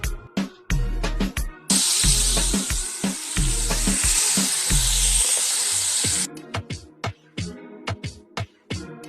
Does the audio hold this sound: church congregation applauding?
no